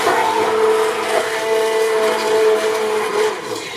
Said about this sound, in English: I also keep mixing it with the mixer.